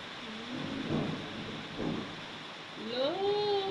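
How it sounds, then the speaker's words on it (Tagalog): Low thunder rumbles in a couple of soft swells over a steady hiss of rainstorm noise, fairly distant, and a high animal whine rises near the end. "Natatakot sila sa kulog, guys."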